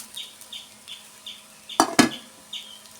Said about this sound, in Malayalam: ഒന്ന് ഇളക്കി മിക്സ് ആക്കി കൊടുക്കാം